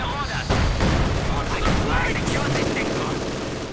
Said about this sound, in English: there we go, incendiary barrage going in